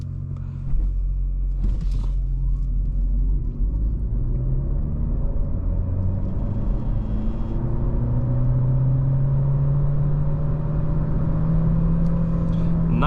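A Renault Clio E-Tech 145 hybrid accelerates at full throttle, a steady loud engine drone rising in pitch through gear changes over about thirteen seconds, heard from inside the car.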